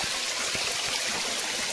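Water stream flowing steadily at an outdoor bathing spot, a continuous rushing hiss with no voices over it.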